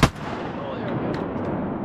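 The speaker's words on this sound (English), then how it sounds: "Did all three of us shoot at him?" Several shotgun blasts from three duck hunters firing at a diving duck on opening day, a loud sharp report at the start followed by an echoing rumble and rapid overlapping shots, close by with no talk.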